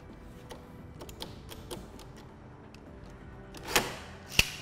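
Lever-operated rivet nut tool being unscrewed after setting a nut on a C7 Corvette Stingray, a series of faint close ticks and clicks ending in two sharper metallic snaps.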